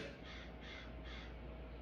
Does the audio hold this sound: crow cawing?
yes